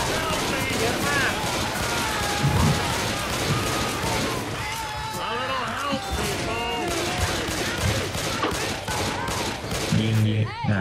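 Heavy gunfire in the zombie shooter Left 4 Dead 2, with dense rapid bursts of shots nearly nonstop throughout and excited players shouting over the din.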